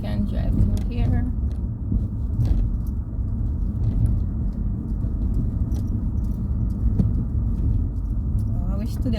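A car driving along a rough, uneven back road, a continuous low rumbling road and engine noise with occasional bumps, with a voice talking over it.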